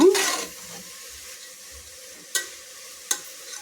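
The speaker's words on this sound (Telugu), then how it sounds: "ఇలా మధ్య మధ్యలో కలుపుకుంటూ ఉండాలండి." Grated carrots for carrot halwa fry in a pan, with a soft continuous sizzle and two sharp scraping stirs of a spatula toward the end.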